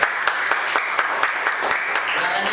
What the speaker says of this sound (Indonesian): Oke, tepuk tangan buat Zri.